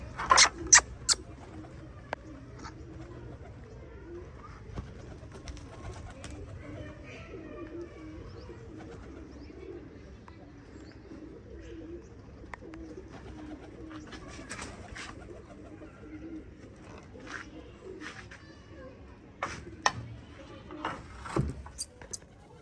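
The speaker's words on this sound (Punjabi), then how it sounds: "ਆ ਗਏ ਬਾਈ ਦੋਵੇਂ ਕਬੂਤਰ ਆਪਣੇ ਬਹਿਣੇ ਵੀ" Two pigeons cooing softly and fluttering in as they land to perch on a rooftop loft, with a few sharp wing flaps and clatters over a steady faint outdoor background; a voice speaks briefly at times.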